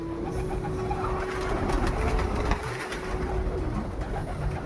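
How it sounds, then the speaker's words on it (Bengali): Pigeons cooing on a rooftop as they are fed grain, a steady layered cooing from several birds close by over a constant outdoor hum, with no talking. "অনেকদিন পর আজকে পায়রার খাবার দিলাম।"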